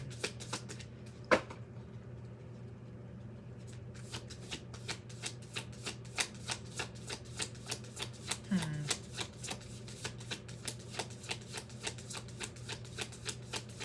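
Tarot cards are shuffled and flipped in a steady run of crisp, quiet snaps and riffles, with a faint steady hum underneath and a sharper knock near the start.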